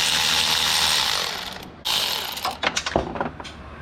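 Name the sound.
ratchet with 12mm swivel socket removing bolts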